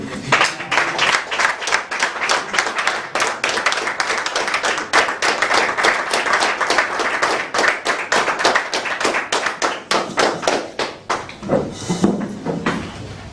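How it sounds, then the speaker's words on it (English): An audience applauds to welcome a speaker at a Toastmasters club meeting, a dense run of hand claps sustained for about eleven seconds before thinning out into a few scattered claps at the end. "So please, under your warm applause, help me welcome Toastmaster Landry Ndriko Maigani."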